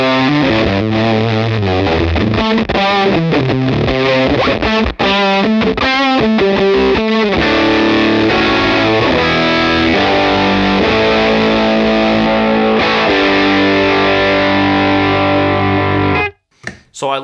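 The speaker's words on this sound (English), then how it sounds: "So here's the Kilt normally. I kind of treat it as like my hard clipping option, like my distortion" Electric guitar played through a Kilt pedal set for hard-clipping distortion and switched with a red remote, giving thick saturated chords and riffs that ring loud and continuous before cutting out abruptly near the end.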